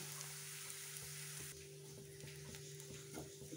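Grated coconut fries in a spoonful of coconut oil, a faint, low sizzle with small scattered clicks of stirring, heard close under a steady background hum.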